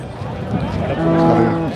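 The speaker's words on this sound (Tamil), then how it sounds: "நல்ல ஒரு அழகிய கிடாரி கன்று" A Kangeyam breed heifer calf at a busy cattle market gives one drawn-out, nasal moo that swells toward the end, close and loud over crowd chatter and background noise.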